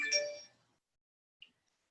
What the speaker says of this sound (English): why is my phone being so noisy?